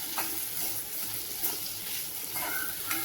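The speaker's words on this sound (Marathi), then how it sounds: "आता बघा हे कारलं टाकते। कारलं सर्व टाकून घेतलेलं आहे। आता परतून घेते चांगलं असं।" Bitter gourd being sautéed in a pan, a soft continuous sizzle with a few stirring scrapes, close and fairly quiet, with no talking.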